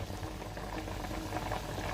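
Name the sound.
water boiling in pot for vegetable pulao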